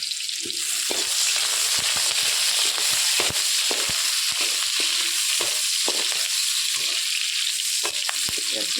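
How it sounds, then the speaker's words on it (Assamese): Cumin seeds crackle and spit in hot oil, a dense, bright sizzle running steadily throughout with scattered sharp pops and stirring scrapes, close and loud. "তেল গৰম হোৱাৰ লগে লগে মই জিৰা দিছোঁ"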